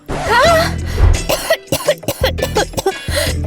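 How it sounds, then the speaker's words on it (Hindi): Several sharp coughs in quick succession, loud and close, with throat-clearing rasps between them. "मुझे इस खांसी को ठीक करना है"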